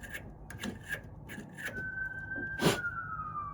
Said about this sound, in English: Oh, hello, police sirens.